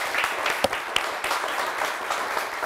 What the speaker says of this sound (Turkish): Haldun Bey'e bir kuvvetli alkış.